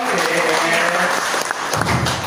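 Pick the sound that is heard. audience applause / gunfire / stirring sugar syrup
audience applause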